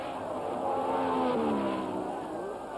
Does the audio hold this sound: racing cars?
yes